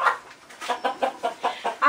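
Chickens clucking inside a henhouse, a steady run of short close clucks repeating about every quarter second, with no talk over them.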